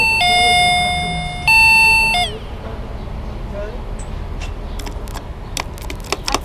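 An electric bell in a hotel rings loudly in two long bursts, then cuts off, leaving faint room noise and scattered clicks.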